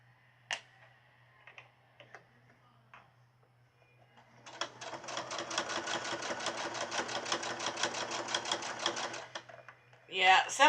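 A sewing machine stitches an apron in a steady, rapid mechanical run of about five seconds, preceded by a few soft clicks and handling sounds and ending in a brief louder clatter; the needle may be dull.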